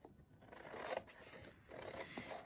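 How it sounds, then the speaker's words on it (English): Scissors cut along the overlapping edge of a folded paper shape in a classroom craft lesson, giving a soft, close crunching and rasping snip that runs in two bursts, fairly quiet and with no talking. "then you're going to take your scissors"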